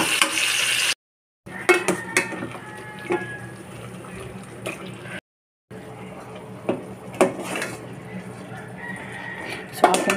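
Ingredients are stirred in a cooking pot for lumpia filling, making repeated scraping and clinking against the pot with light sizzling. Spoon knocks come close and steady, broken by two brief silent gaps.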